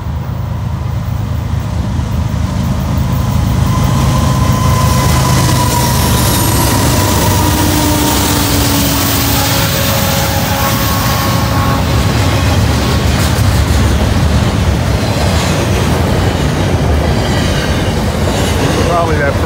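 A northbound freight train rolls past on the Norfolk Southern Rathole line, a loud continuous rumble of wheels and cars with faint squeals and clicking rail joints over about twenty seconds, no talk.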